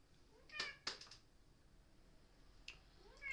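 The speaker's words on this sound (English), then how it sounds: "that's my cat." A house cat meows a few times, short high-pitched cries close together near the start and another single meow later, faint against a quiet room hiss.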